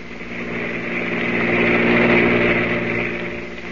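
Radio drama effect of a car engine approaching on a road at night and whipping past, a steady roar that swells to a peak mid-clip and then recedes.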